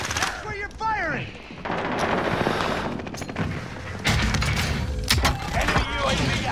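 Gunfire rattles through a Call of Duty Warzone match, with repeated loud shots and bursts, some booming impacts and mechanical clicks, mixed with voices talking over the action.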